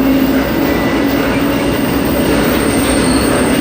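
A KCS freight train with Norfolk Southern locomotives at the rear rolls past close by, a loud, steady rumble of wheels on rails with a high squeal running through it.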